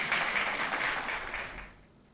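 A crowd applauds and cheers as the Ivorian president leaves the Ivorian chancellery, a steady wash of clapping that fades away toward the end.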